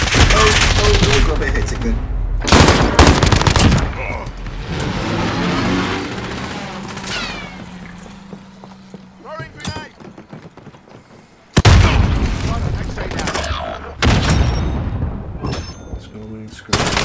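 Loud bursts of automatic gunfire in Warzone come in several heavy volleys separated by quieter stretches, with a player talking between them.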